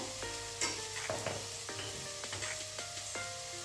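Sliced onion with garlic masala sizzling in a pan for bitter gourd curry, a steady close crackle broken by a few sharp stirring scrapes and clinks, no voices.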